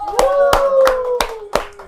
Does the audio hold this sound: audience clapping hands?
yes